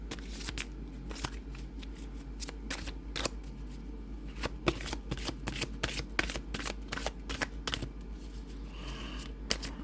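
A deck of oracle-style cards is shuffled and cards are drawn, producing quick papery riffles and snapping flicks in uneven bursts, close and fairly quiet.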